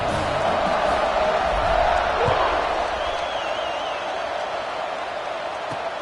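A stadium crowd roars and cheers at kickoff in a video game football match on wet turf. The broad, steady wash of noise holds throughout, with a commentator's voice over it.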